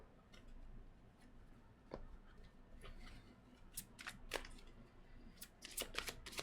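Soft shuffling and flicking of an oracle card deck, quiet close paper slaps and riffles that grow busier toward the end, with no talk.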